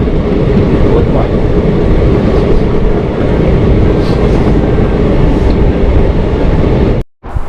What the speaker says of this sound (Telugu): బ్రిడ్జి పైనుంచి అయితే ట్రైన్ అయితే వెళ్తుంది